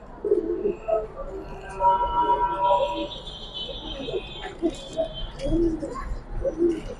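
Pigeons coo repeatedly in low, soft, rolling calls close by, with a few chirps and shuffling sounds as someone speaks over them.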